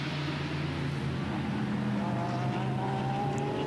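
Race cars including a BMW M3 E46 at the Michelin 24H Barcelona endurance race, a steady engine roar at a distance with rising tones as cars pass, continuous throughout.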